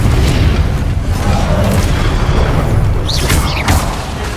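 A Confringo fire spell bursting in Hogwarts Legacy, a booming explosive blast amid dense game sound effects, with brief whooshing flares late in the moment and no speech.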